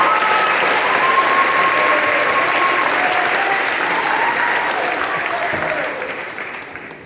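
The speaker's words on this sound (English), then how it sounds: "let's just give them another round of applause" Dense, sustained applause from a graduation ceremony audience for the class of 2025, loud and even at first before fading away over the last second or so.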